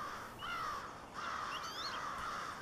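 A group of crows caws and calls across an open area in two bursts of harsh, repeated cries, some near and some farther off, with no speech.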